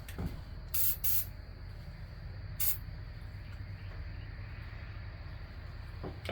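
Three short, bright bursts of aerosol lubricant spray sound during a K24A engine build, the first two close together and a third after a pause, against a steady low background hum with no talking.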